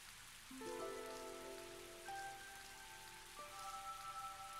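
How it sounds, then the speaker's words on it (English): Rain falls steadily in the Tales of Graces f role-playing game, a soft, faint patter on surfaces running throughout while sustained musical tones ring over it. "Perhaps it's because of this rainy weather we've been having."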